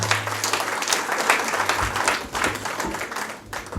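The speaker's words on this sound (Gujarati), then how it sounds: "ખૂબ તાળીઓના સન્માન" Audience applause at a Gujarati literary and music stage program in Ahmedabad, honoring the performers: steady, dense clapping from a large crowd filling the whole moment, fairly close and even in loudness.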